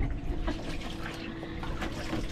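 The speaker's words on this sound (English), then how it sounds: "Doing some laundry there, honey?" Laundry being washed by hand in water aboard a sailboat at anchor, soft sloshing and trickling close by, fairly quiet with no talk.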